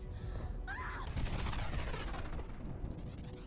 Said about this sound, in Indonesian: Tepat di saat Atlas melepaskan tembakan, Smith berhasil menonaktifkan bom karbon itu.